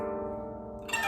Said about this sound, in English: we glide down the scale using the back of our picks